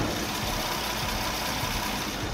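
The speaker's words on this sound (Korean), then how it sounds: "자 이렇게 엔진 소음을 담기 위해 본네트를 한번 열어봤는데요." A gasoline Aslan sedan idles with its bonnet open, giving a steady, even engine hum close to the microphone with no voices.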